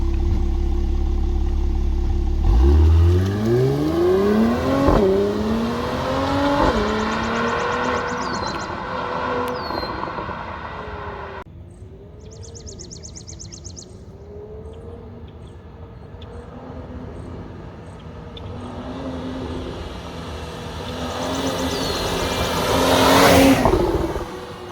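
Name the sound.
Mercedes GLC 43 AMG coupe V8 exhaust revving and launch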